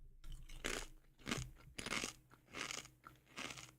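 Close, crisp crunching of crunchy chicken chips being chewed, five or six loud bites in a steady rhythm with short pauses between.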